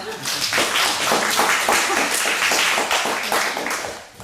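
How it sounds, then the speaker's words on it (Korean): Audience members at a literary talk with a poet clap briefly, an uneven patter of handclaps heard close over murmured voices. "이럴 때 박수 치셔야 되죠."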